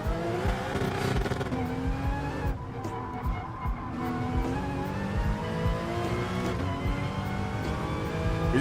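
Race car from Assetto Corsa Competizione driven hard, a loud, dense engine roar with repeated revving and upshifts, tire squeal and skidding mixed in, one short dip in intensity midway, continuous and close with no voices.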